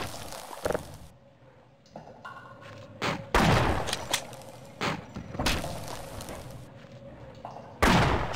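Gunshots ring out in a Half-Life VR mod game, several sharp loud bursts and thumps at irregular intervals, some in quick succession, with quieter gaps between them.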